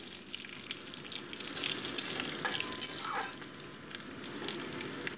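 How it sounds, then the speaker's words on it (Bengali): Dried red chillies and five-spice seeds frying in mustard oil for a vegetable dish, a steady close sizzle with faint crackles and a few small clinks of stirring throughout. "শুকনো লঙ্কাটা ভাজা হতেই দিয়ে দিচ্ছি 5 ফোড়ন"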